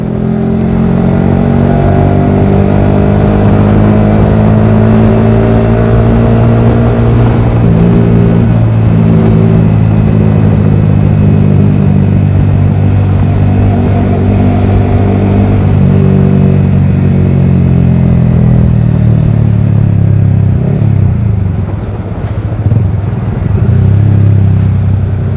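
Yamaha R15 V3 motorcycle fitted with a Daytona Evolution aftermarket exhaust, revving for about 25 seconds in a deep, continuous, loud rumbling drone that rises and falls steadily, close up and with no talking.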